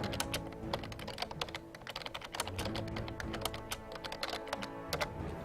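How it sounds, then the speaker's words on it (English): Steady typing on a computer keyboard, with rapid, irregular clicks and taps that sound close and continuous throughout, and no talking. "So I'm going to type it in lowercase just to show you guys it doesn't work."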